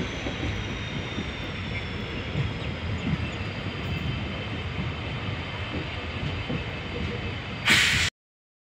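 A train rumbles and clatters past at a steady, loud level with no voices, ending in a short louder hiss before cutting off.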